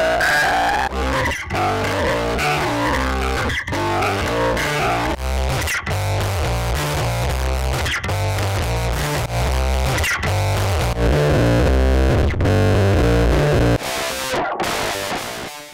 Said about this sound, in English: through to crunchy analog and digital distortion modes